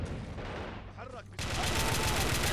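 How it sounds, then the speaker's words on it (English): A fast-firing gun from the Men of War: Assault Squad 2 game rattles off a dense burst, with a brief lull and a voice in the middle before heavy continuous fire returns. "That's a fast-firing gun."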